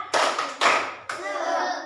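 A group claps in unison, three quick bursts of clapping, the last one longer and tapering into scattered claps, close and loud.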